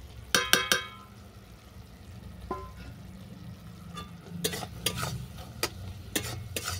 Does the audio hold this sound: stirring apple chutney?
yes